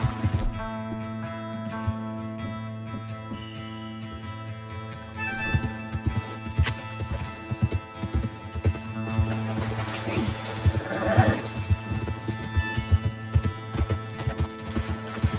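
Rhythmic horse hooves clip-clop steadily over a bed of game music in Red Dead Redemption 2, with a whinny rising in the middle, the hoofbeats growing louder toward the end.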